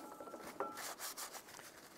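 Rag wiping down the gasket valley of a 2007-2013 Chevrolet Silverado 1500 engine after brake parts cleaner, giving soft close rubbing swishes in a short irregular run, alone.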